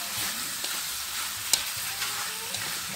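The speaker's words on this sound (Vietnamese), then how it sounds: "ớt với xả bỏ lên xào trước," Chicken stir-fried with lemongrass and chili in a hot pan, a steady hissing sizzle with a few sharp scrapes and clicks of stirring, close and continuous.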